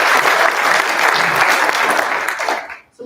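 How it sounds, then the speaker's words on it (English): Loud, dense applause from the audience at a provincial election debate in Dufferin-Caledon carries on steadily, then fades and drops out near the end. "So I think a round of applause."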